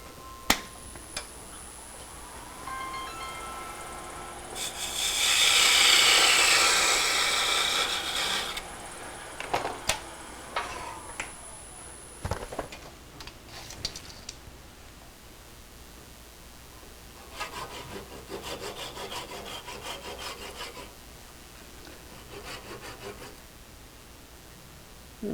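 A small wooden ring box top is parted off on a wood lathe, with a loud scraping, rasping cut building for a few seconds, then scattered clicks and knocks and a later stretch of lighter scraping.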